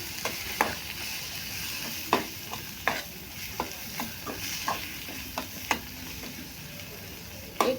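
A spatula stirs egg bhurji with coriander in a pan, its soft clacks and scrapes landing irregularly over a quiet, steady sizzle, close and fairly faint.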